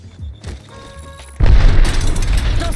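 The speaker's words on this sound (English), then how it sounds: "Throwing an arc star." An arc star grenade detonates in Apex Legends, a sudden loud burst of crackling, booming noise that cuts in partway through and stays dense and heavy, with faint game sounds and tones beforehand.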